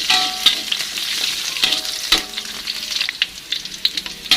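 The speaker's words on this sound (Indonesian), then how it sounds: "kita masukkan cabainya. Kita tumis kembali sampai bumbunya matang." Chilies, garlic and shallots sizzle in hot oil while being stirred, making a crackling fry with scraping spatula strokes, close and fairly loud, with no talking.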